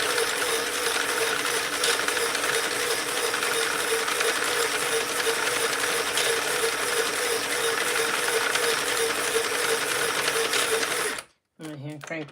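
Sentro 48-pin circular knitting machine cranked by hand, a steady loud ratcheting clatter of gears and pins running continuously for about eleven seconds before stopping abruptly, followed by a brief spoken voice.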